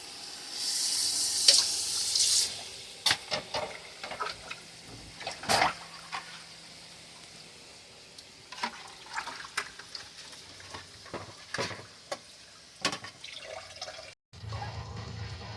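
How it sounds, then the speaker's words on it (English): Water runs from a kitchen tap into a sink while dishes are washed, a steady close splash with clinks and knocks of dishes, louder bursts near the start and a change in flow near the end. "Time to do dishes."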